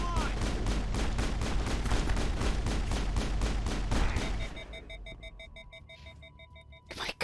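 Rapid gunfire from Mass Effect played on Insanity difficulty: a fast, evenly spaced burst of weapon shots lasting several seconds, then electronic beeping tones and a final sharp effect.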